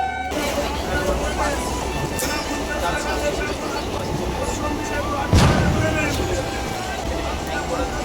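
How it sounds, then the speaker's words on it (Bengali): A train pulls into Dum Dum station with a broad, rumbling roar and a sharp metallic clank partway through, heard under people talking on the platform. "এই দেখো ট্রেন ঢুকছে"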